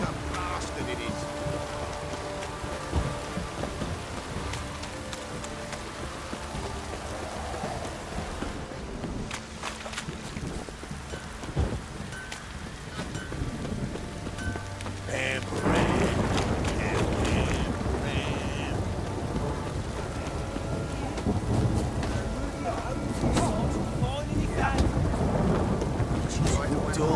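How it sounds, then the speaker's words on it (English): Heavy rain pours in The Witcher 3: Wild Hunt, a constant dense hiss with low rumbling thunder, growing louder and fuller partway through, with creaking sounds and brief speech mixed in. "This downpour's a bastard, it is."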